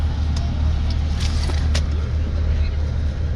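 Steady engine drone and road rumble from inside a moving long-distance bus, continuous and fairly loud, with a few brief clicks and rattles and faint voices in the background.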